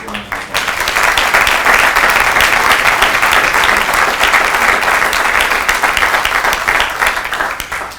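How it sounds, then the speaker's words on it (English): A crowd at a Marine graduation applauds the drill instructors, a loud, steady, dense wash of clapping that swells quickly and holds for several seconds before starting to fade. "Ladies and gentlemen, let's give these drill instructors a round of applause"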